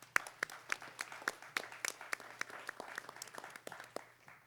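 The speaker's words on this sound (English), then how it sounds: "She deserves a big round of applause." Audience applause at a delegate assembly meeting: a crowd claps in a steady patter of separate hand claps, moderately close, gradually thinning and fading over a few seconds, with no one speaking.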